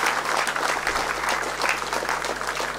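An audience at the Dieppe mayor's 2020 New Year's greetings event applauds an accordion player, a steady, dense burst of clapping from a hall full of people, moderately loud and continuous.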